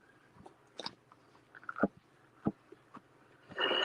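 Close, quiet chewing and crunching of char-sui pork steak lettuce wraps with kimchi slaw, irregular wet bites and crisp crunches spread over a few seconds, ending in a louder rustle.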